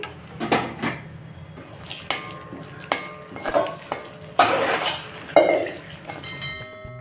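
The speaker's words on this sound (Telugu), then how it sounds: "కొద్దిగా వెల్లుల్లిపాయలు దంచుకుంటున్నాను" Garlic cloves pounded by hand while tempering gongura dal, a series of sharp, ringing metallic thuds at an irregular pace, loud and close, each strike followed by a brief resonant tail.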